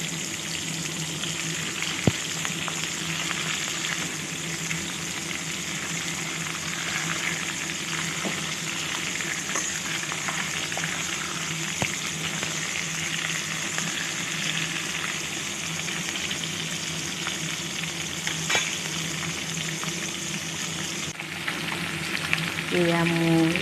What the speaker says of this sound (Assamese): আৰু মাছৰ মূৰকেইপিচ এতিয়া মই ফ্ৰাই কৰি ল'ম।